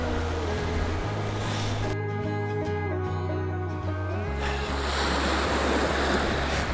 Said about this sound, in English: listening to waves and the wind is better than hearing transports on the highway